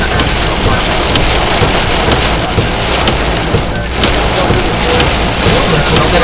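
Heavy rain pounds steadily in a violent thunderstorm over Pittsfield, Massachusetts, a dense unbroken roar with deep rumbling thunder underneath and wind mixed in, loud and close throughout.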